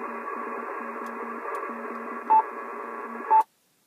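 A steady band of ham radio static and hiss with a faint repeating pulse while an ATAS antenna retunes, interrupted by two short beeps before cutting to silence.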